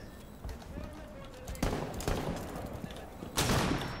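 Three sharp gunshots in Rainbow Six Siege, spaced a second or two apart, loud and close over background game noise, with someone talking through the clip.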